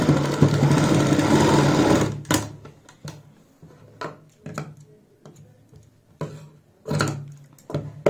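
A domestic sewing machine stitches a cuff sleeve for a kurti or blouse, running in a steady continuous burst at first, then in a series of short separate runs with brief pauses between them, close and fairly loud.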